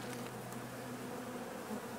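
Bees buzz continuously around a log, a dense, steady droning hum of many insects close by, with no voices.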